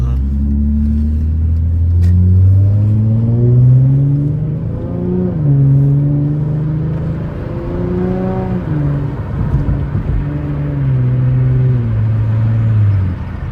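A 2016 Hyundai Genesis Coupe 3.8 on the highway pulls hard, its V6 engine droning loud from inside the cabin, rising in pitch through each gear, dropping at shifts, then climbing again.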